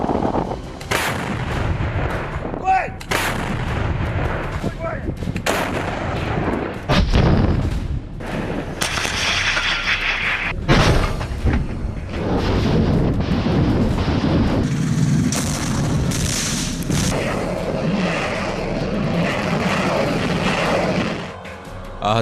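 Artillery cannons fire in the war in Ukraine, heavy booms repeating irregularly over a continuous rumble, with a drone of aircraft engines in the background.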